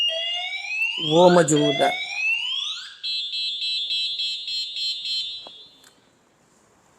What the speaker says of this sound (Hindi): इसकी जो सेंट्रल लॉकिंग का शोर है वो बहुत ही ज़्यादा है